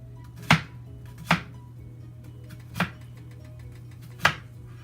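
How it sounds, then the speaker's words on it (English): Four separate knife chops through an onion on a cutting board, spaced unevenly over a steady low background hum, with no talking. "I'm going to finish cutting up my onion"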